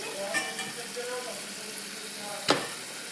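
Onions fry in a pan for prawn malai curry, a soft continuous sizzle with a couple of light utensil knocks, one sharper clack near the end.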